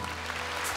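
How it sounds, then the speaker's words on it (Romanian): An audience applauds at Gheorghe Topa's 60th anniversary concert, a brief dense burst of many hands clapping together at a steady, fairly loud level, with no talk over it. "Dați-le aplauze."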